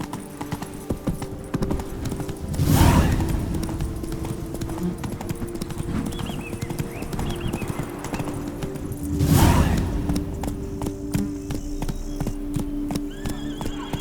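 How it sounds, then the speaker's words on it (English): A horse gallops in The Witcher 3 with rapid, steady hoofbeats throughout, broken by two loud whooshing swells with neighing, all close and without talking. "Run, Roach."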